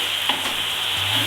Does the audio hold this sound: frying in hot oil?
yes